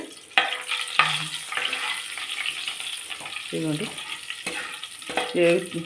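Tempering sizzling in hot oil for a broad bean curry, a steady frying hiss running throughout with stirring clatter, while someone talks over it.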